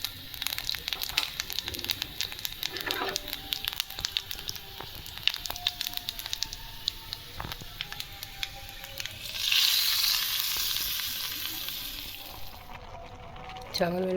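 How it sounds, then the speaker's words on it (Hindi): Cumin seeds and asafoetida hit hot oil for a raita tempering. The result is a continuous close crackling sizzle that swells louder partway through, with faint voices in the background. "अब मैं इसमें डालूँगी ज़ीरा एंड हींग।"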